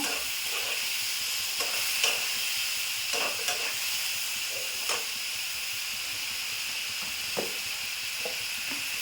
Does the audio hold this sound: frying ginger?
yes